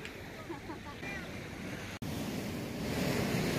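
Waves wash onto the beach at Lamma Island, Hong Kong, a steady rushing surf mixed with wind buffeting the microphone, with one brief click midway.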